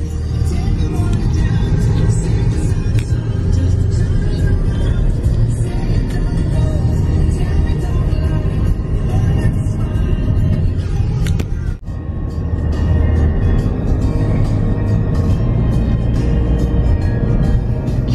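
A car driving along a road at sunset after leaving Busch Gardens Williamsburg, heard from inside as a steady, close rumble of engine and tyre noise with one brief dip, with no talk over it.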